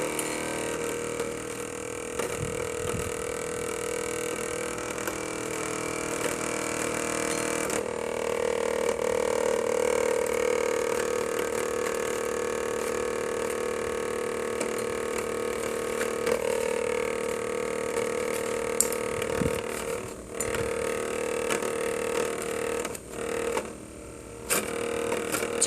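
A small cotton candy machine spinning steadily, a continuous mechanical whirr with a sustained motor hum and occasional clicks and rattles, fairly close, with no voices.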